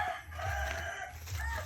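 Fighting roosters crow at a moderate distance, a drawn-out call rising and falling over a low background hum, with no talk over it.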